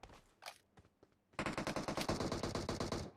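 Gunfire in a shooter video game: a few scattered single shots at first, then a sustained rapid automatic burst of evenly spaced loud cracks lasting nearly two seconds, no talk.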